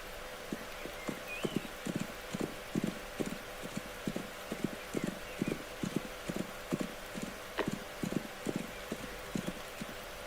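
Horse hooves clip-clop steadily in the video game Rising World, a quick, even run of close hoofbeats that carries on for about ten seconds over a faint ambient background.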